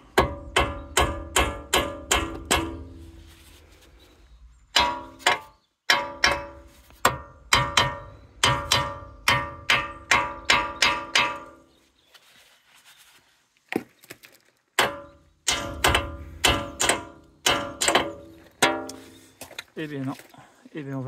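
A hammer strikes the steering ball joint of a Jeep Renegade in rapid, ringing bursts of blows, pausing between volleys and then resuming.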